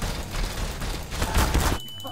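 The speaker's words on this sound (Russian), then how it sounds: "Бочка сейчас взорвется." An explosive barrel blows up in Garry's Mod, a dense crackling burst of blasts lasting over a second before cutting off abruptly into quieter game sound.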